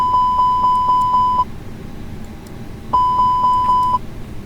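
Airbus A320 cockpit warning test tone in a flight simulator, a loud rapid series of sharp electronic beeps in two bursts of about six pulses each, separated by a short quiet gap.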